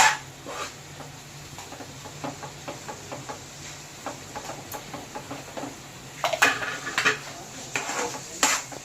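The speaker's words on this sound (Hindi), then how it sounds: "अब इसको हम अच्छे से चला लेंगे।" A spoon stirs food in a cooking pan with oil, making repeated light scrapes and taps against the metal, with a faint sizzle underneath and a few louder knocks near the end.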